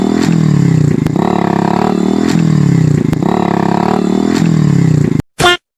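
A red Hero Passion X Pro motorcycle engine revs loudly and close, rising and falling in about five repeated throttle cycles with mechanical clatter, then cuts off before one brief final burst.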